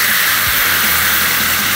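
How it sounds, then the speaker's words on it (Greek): White wine and water poured into a hot pot of chicken, with orzo and zucchini, give a loud, steady steaming hiss that holds constant throughout. "πάμε να σβήσουμε εδώ πέρα την κατσαρολίτσα μας με λίγο κρασάκι λευκό"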